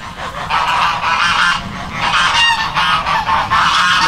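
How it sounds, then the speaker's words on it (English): Several geese honk loudly and excitedly, overlapping calls in a continuous close-up chorus with no pauses. "And the geese are very excited."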